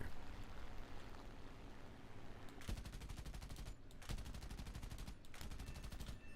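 Aircraft machine guns firing in War Thunder, several sustained rapid bursts of rattling gunfire over steady engine roar, loud and close, with no talking.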